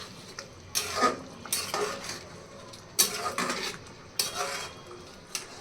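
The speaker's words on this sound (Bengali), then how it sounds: "এখন সবগুলো একসাথে একটু নেড়েচেড়ে দিতে হবে।" Prawns and spinach stirred together in a cooking pot with green chillies, several distinct scraping strokes of a spoon against the pot over a faint sizzle, rhythmic and close.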